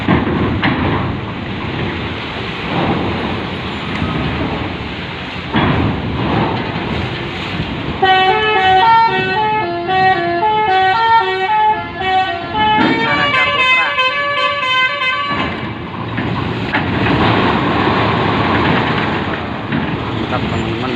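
A telolet musical bus horn plays a bright multi-note melody as a bus boards a ship, loud and close, rising out of rumbling vehicle and engine noise, with people talking around it.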